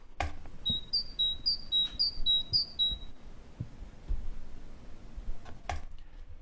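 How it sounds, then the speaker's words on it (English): A great tit sings in a park, its bright two-note phrase repeated about six times in a quick, clear sequence, fairly close over faint outdoor ambience, with a few soft knocks and a brief noise afterward. "But great tit. Let's have a listen."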